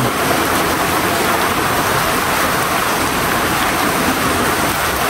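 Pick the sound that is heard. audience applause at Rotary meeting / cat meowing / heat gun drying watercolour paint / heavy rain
heavy rain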